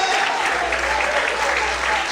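Continuous applause from a church congregation during a worship service, a dense even wash of clapping that holds at a steady level throughout.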